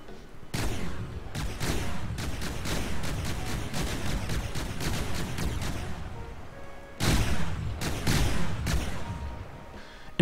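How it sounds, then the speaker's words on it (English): A fast-firing multi-barrel APS turret in the From The Depths video game lets off dense, slightly uneven bursts of booming shots, a long volley, a brief lull, then another burst, loud and close with no talk. "you can hear our fire rate sounds a little bit stuttery"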